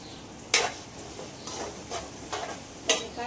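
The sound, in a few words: onion frying in oil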